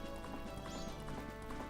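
A horse gallops at Romani Ranch in the video game Zelda: Majora's Mask, with rhythmic clip-clop hoofbeats and a brief neigh over game music, quiet and steady throughout.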